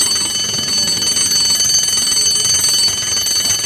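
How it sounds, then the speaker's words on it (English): Loud, steady electric bell or alarm ringing without a break for several seconds, shrill and continuous, with no voices, as in a hospital casualty department. "Suddenly, she heard the bell."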